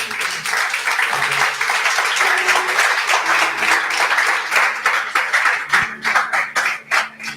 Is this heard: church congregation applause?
yes